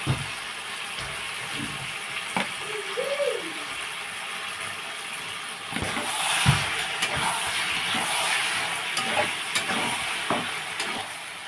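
Pasta being stirred through spices in a hot frying pan, giving a steady sizzle with scraping and clinking stirring strokes, close and continuous, growing a little louder partway through.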